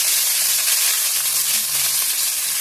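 Chopped onion hits hot oil in a pan, giving a loud, close, continuous sizzle with a bright hissing wash throughout and a faint low tone underneath, no talking.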